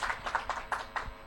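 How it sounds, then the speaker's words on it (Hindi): A small audience gives a short burst of applause to welcome a guest speaker, about half a dozen quiet, separate claps over roughly one second. "ज़ोरदार तालियों के साथ सर का यहाँ पे स्वागत किया जाए"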